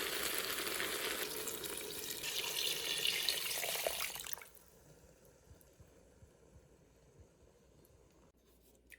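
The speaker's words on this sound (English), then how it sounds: "I will add water to it now." About a liter of water pours into a cooking pot of mutton trotters in a loud, steady rush for about four seconds, then stops, leaving quiet kitchen rustling and faint clinks.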